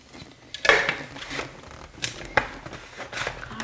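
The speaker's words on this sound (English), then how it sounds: "I'm gonna put the lid on here" A lid set onto a cooking pot in a home kitchen while making a steak dinner, heard as a sharp metallic clank followed by a second lighter clatter a moment later, close and clear with no talking.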